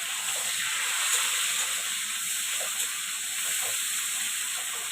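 Chopped tomato hits hot oil with cumin seeds, giving a steady, close sizzling hiss that holds evenly from start to finish with no talking.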